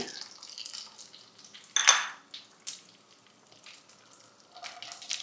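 Mustard seeds, curry leaves and ginger hit hot oil with a sharp burst of sizzle and spatter, then settle into a lighter crackle broken by clinks of a utensil against the pan.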